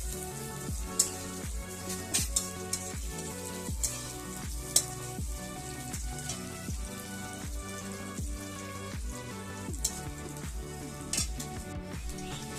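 Chopped spice paste lightly frying in a pan for a fish-head and rice dish: a continuous crackling sizzle with occasional louder pops and stirring scrapes, softly backed by music.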